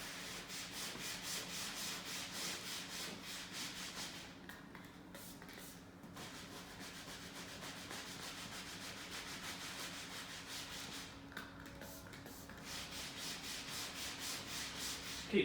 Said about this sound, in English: keep rubbing over the surface and applying the prep